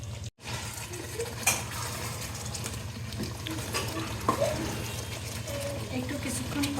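Beef with new potatoes and peas being stirred and fried in a rice cooker, a steady sizzle with occasional scrapes and clinks of a utensil, close and continuous, with faint talk in the background.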